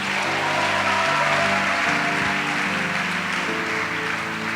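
A church congregation claps and cheers after a reading, a dense, steady wall of applause mixed with sustained music tones throughout, loud and close.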